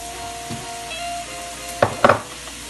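Pineapple shrimp fried rice with onions stir-fried in a pan, a soft continuous sizzle with a faint scrape early on, then two sharp clattering stirs near the end.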